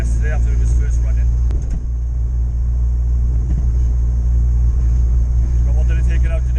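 Interior drone of a Ford Capri with a Zetec turbo engine cruising in fifth gear. A steady low engine and road rumble runs close throughout, with a faint high whine on top.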